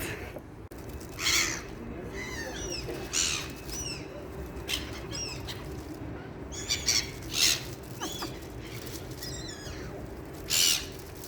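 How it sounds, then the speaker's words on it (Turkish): Gulls calling in bursts at an Istanbul waterfront while bread is thrown to them, sharp cries recurring over a steady background hum of wind and city noise. "buradan martılara ekmek atacağız."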